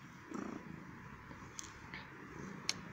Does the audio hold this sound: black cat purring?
yes